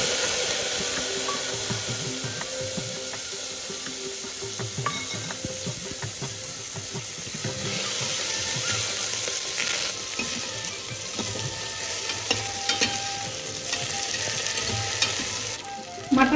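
Mustard seeds with curry leaves and tomato fry in hot oil for a mutton soup, a steady loud sizzle with rapid popping and crackling that continues for the whole stretch.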